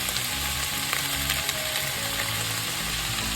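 Bitter melon and beef stir-fry in a hot pan, a continuous dense sizzle with low rumbling scrapes and a few sharp utensil ticks from the stirring, close and loud.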